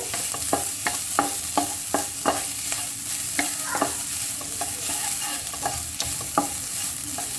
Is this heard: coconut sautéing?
yes